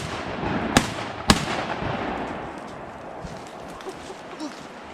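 Two sharp, loud shotgun blasts in quick succession while hunting Canada geese outdoors, each ringing out over a rustling background, followed by faint movement.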